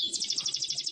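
A German Harz Roller canary sings a short rapid trill of evenly pulsed, bright rolling notes, close and clear, lasting about a second before stopping abruptly.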